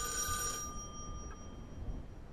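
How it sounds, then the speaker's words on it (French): A telephone rings in the [REC] Paroxysm horror game, its bright tonal bell burst loud for the first half-second and then fading to a faint lingering tone over low room rumble, with no voices. "Il répond au téléphone, hein, il arrête pas de sonner."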